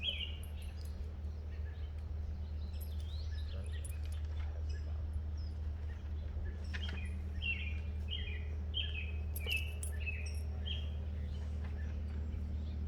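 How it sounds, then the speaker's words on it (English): Birds chirp and sing in short repeated phrases at a distance over a steady low outdoor hum on a midsummer morning. "The songs of birds is splendid."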